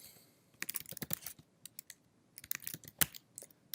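Quiet keystrokes on a computer keyboard come in irregular bursts and short runs, with a few sharper clicks and pauses between, recorded close and alone with no talking.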